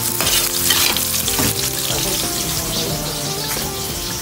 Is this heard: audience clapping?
no